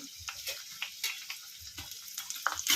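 Garlic and dried red chillies sizzle softly in a pan on low heat, with a faint crackle and light scraping taps of a spoon stirring through.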